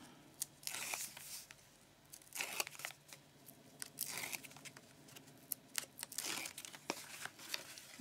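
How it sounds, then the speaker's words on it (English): Adhesive tape peeled off a paper craft project, heard as repeated close, crackly ripping bursts separated by short pauses, with crinkling paper rustle between them. "and then you can take off the tape"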